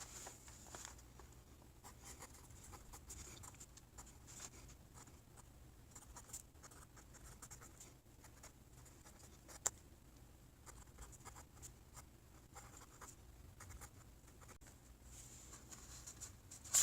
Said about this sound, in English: So I'll write that on the next page now.